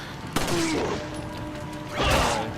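A gunshot goes off in Resident Evil 4, a sharp crack with a short echoing tail, then a second louder blast about a second and a half later over a steady game ambience.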